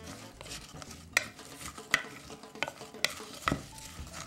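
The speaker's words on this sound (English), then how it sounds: "Stir this all together." A spoon stirs curry powder and mustard seed together in a bowl, producing quiet scraping with several sharp clinks against the side.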